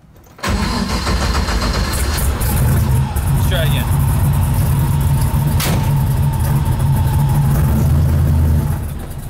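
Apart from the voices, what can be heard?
Chevy drag car engine stalling and restarting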